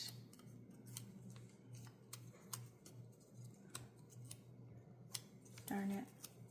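Crisp scissor snips cutting paper repeat irregularly over a steady low hum, each cut a short sharp click close to the listener.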